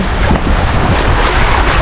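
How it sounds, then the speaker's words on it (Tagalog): Strong ocean waves roar steadily and loudly close by on a fishing trip at sea, with heavy wind noise buffeting the microphone and no voices. "Sobrang lakas ng alon mga kalabs."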